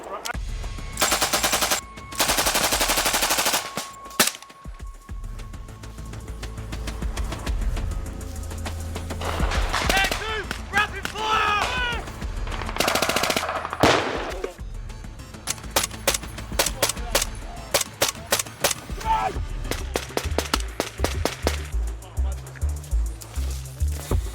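A Finnish army machine gun fires long, loud, dense bursts during a field exercise pushing up a hill, with sustained rattling runs and later choppier bursts, while soldiers talk between them.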